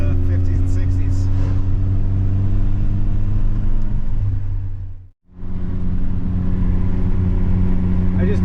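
A cheap old car with a custom side-exit exhaust cruises at 67 mph on a highway, giving a loud, steady low drone and road rumble that briefly cuts out before resuming, with the driver's voice mixed in.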